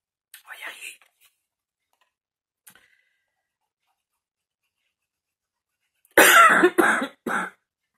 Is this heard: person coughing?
yes